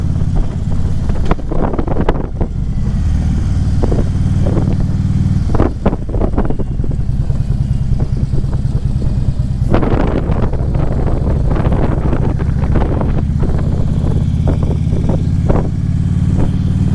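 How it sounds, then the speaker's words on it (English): An engine roars continuously while riding, loud and close, mixed with heavy wind buffeting the microphone and occasional louder gusts across the whole stretch. "Hear that engine roar,"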